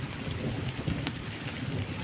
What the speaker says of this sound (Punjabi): ਤੇ ਲਓ ਜੀ ਮੀਂਹ ਅੱਗੇ ਨਾਲ ਵੱਧ ਗਿਆ ਵਾ ਸ਼ੁਰੂ 'ਚ ਥੋੜਾ ਸੀ ਤੇ ਬੱਦਲ ਅਜੇ ਵੀ ਗੱਜਦਾ ਏ